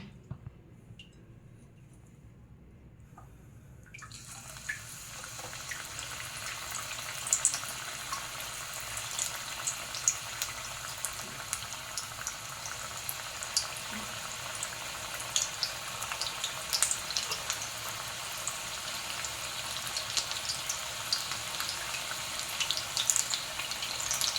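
Spring onion bhaji frying in hot oil in a kadhai: a few seconds of near silence, then a steady, dense sizzle that stays continuous and fairly loud without any talking.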